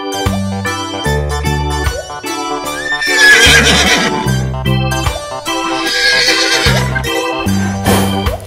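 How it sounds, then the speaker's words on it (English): A horse neighs loudly in two long, shrill whinnies over a bouncy children's backing tune, with no voice heard. "The sound of the horse is"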